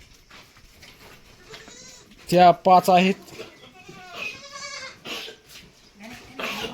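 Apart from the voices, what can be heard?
goats bleating in a goat shed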